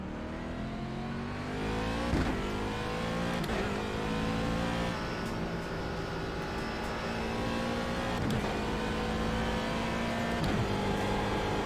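Several race cars circle a track in an IMSA racing simulator, engines droning and revving steadily with shifting pitch, occasional cars passing close by, a continuous loud mix of motors with no talk.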